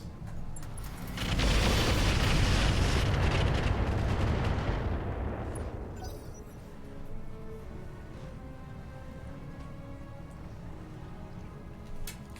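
A volley of long-range missiles fires in the BattleTech video game, a loud, dense roaring burst of launches that holds for about four seconds, then fades into a rumbling tail with a quieter background hum.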